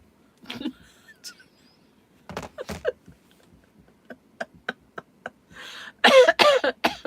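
Several short, sharp coughs in bursts, close to the microphone, ending in a louder, rougher fit of coughing.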